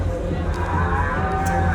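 A car horn sounds a low mooing call amid a busy crowd at a convention in New York City, moderately loud beneath chatter.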